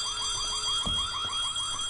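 A fire alarm in the school horror game White Day rings continuously as a rapid, repeating electronic warble, steady and fairly loud, with a couple of dull low thumps partway through and no talking.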